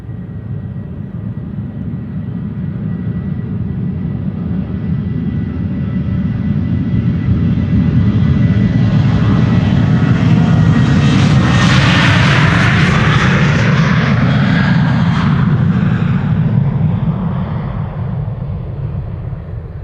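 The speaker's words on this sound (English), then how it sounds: "Ryanair, flight 421," Ryanair jet departing Schiphol Airport on flight 421 to Dublin, its engine roar swelling loud as it passes close, peaking mid-way with a descending whine, then slowly fading, no talking.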